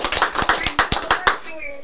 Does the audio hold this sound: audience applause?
yes